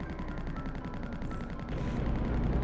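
Frag cannon in the N64 game Body Harvest, played on real hardware, fires a rapid, continuous burst of loud explosive multi-grenade shots, dense and unbroken throughout with a slight swell near the end.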